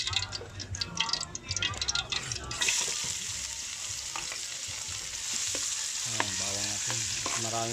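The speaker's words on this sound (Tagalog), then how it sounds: "Simulan na tayo magisa." Garlic and spices sauté in a hot pan for Filipino provincial cooking, with a bright, steady sizzle that swells after a few seconds, joined by light stirring clicks.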